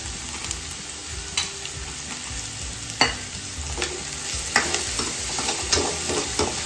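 Onions frying in oil in a pan for Goan chicken xacuti, a continuous close sizzle broken by repeated scrapes and taps of stirring.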